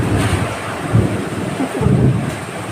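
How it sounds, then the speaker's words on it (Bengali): A thunderstorm with rain makes a loud, dense roar, with low rumbling swells and buffeting wind across the microphone, no voices. "ঝড় বৃষ্টি দেখছে"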